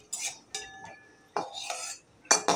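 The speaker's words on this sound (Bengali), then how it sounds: "বাদামগুলোকে একটু নেড়ে চেড়ে নিতে হবে, মানে ভেজে নিতে হবে একটু ভালোভাবে" A metal spatula scraping and stirring peanuts in a wok of oil while making singara, four sharp clinking strokes spaced apart against a faint sizzle, close and fairly loud.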